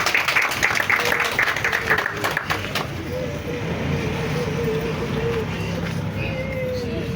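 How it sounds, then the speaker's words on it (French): An audience at a memorial tribute claps briefly, a burst of scattered applause in the opening seconds that fades out, leaving a steady murmur of room noise and faint voices. "On peut applaudir pour ça, s'il vous plaît."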